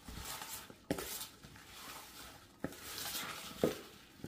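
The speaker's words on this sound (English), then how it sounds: "I'm going to stir this around" Brussels sprouts stirred in a hot pan, a soft continuous scraping and rustle with a few sharp utensil knocks against the metal, close and fairly quiet, no talking.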